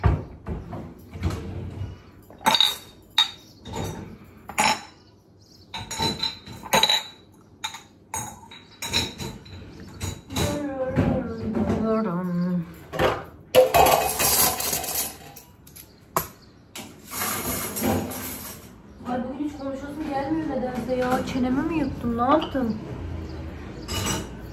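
Dishes and glasses clink and clatter as they are loaded into a home dishwasher, a run of scattered knocks and rattles at close range, with someone talking over parts of it.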